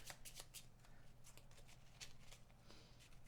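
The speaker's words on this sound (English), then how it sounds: "I will shuffle the deck." Treasure card deck shuffled during a Sword & Sorcery board game session, a steady run of crisp riffling card snaps repeating close and clear throughout with a low background hum.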